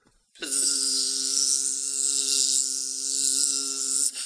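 A loud, steady insect-like buzz begins abruptly and holds for about four seconds before cutting off, serving as a bee theme song for a spelling bee bit.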